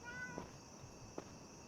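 A cat meows twice inside a horror video game, two brief, faint calls spaced under a second apart over a quiet, humming ambient background.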